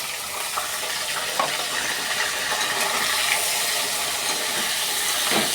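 Meat pieces go into hot oil just after potatoes were fried in it, producing a steady close sizzling hiss with a few faint crackles and pops.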